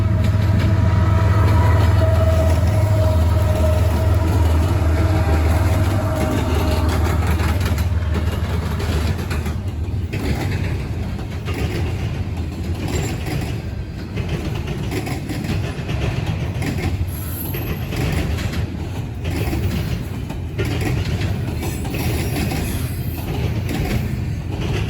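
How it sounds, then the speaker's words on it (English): Freight train I-166 hauled by two Canadian Pacific GE Evolution-series locomotives rolls past at a rail diamond crossing, with a deep engine rumble at first, then a long steady roar of passing cars and rhythmic wheel clatter, loud and sustained. "Today, I-166's power was two very ugly and dirty-looking Canadian Pacific Gevos taking the train to Montreal"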